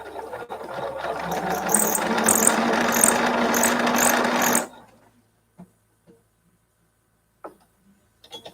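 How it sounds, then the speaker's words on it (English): A domestic sewing machine runs steadily and loudly for about four and a half seconds with a rhythmic mechanical ticking and a squeaking whir, then cuts off, leaving near silence with a few faint clicks. "My sewing machine is making a noise."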